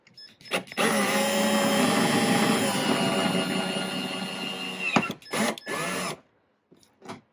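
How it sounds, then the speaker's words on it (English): A power drill whines steadily for several seconds as it bores holes into plastic, then stops, followed by a few short bursts and clicks. "So we're going to go ahead and drill our holes."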